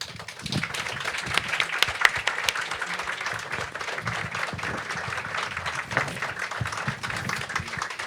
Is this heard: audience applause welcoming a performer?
yes